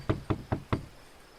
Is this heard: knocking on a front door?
yes